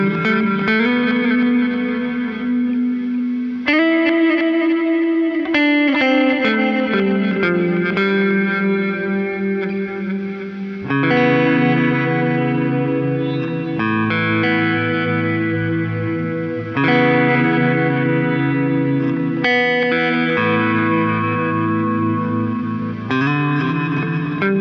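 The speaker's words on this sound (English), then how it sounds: "Now this one's gonna have the reverse delays on." Horizon Devices Flux Echo pedal set to reverse delays, with swelling, backward-sounding guitar repeats washing into ambient reverb, steady and loud throughout with no talking.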